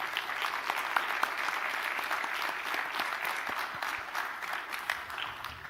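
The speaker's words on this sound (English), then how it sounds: "I'd like you to give our candidates all a round of applause" A round of applause for election candidates at a meet-the-candidates event, a steady, moderately distant patter of many hands with a few sharper individual claps, no talking.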